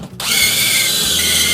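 A DeWalt power drill spins up sharply to tighten a part on a pop-up camper conversion, a loud, close, steady whine that holds for over a second after a brief quiet start.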